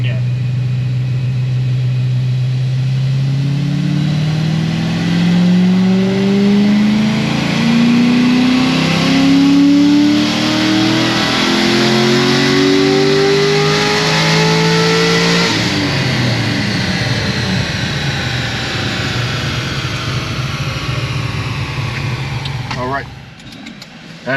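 An LS7 V8 roars through a dyno pull, its pitch climbing steadily under full load for about fifteen seconds before dropping back to a loud, rumbling idle.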